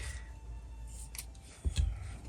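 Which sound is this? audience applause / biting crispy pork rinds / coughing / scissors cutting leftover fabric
scissors cutting leftover fabric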